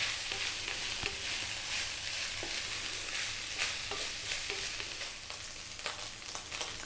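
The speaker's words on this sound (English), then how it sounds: "That's your rice frying there, beautiful." Rice fries and is stirred in a hot pan while cooking an Indian vegetarian rice dish, a steady close sizzle broken by repeated scraping and clinking stir strokes.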